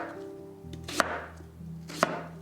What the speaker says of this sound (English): We are starting by chopping up veggies.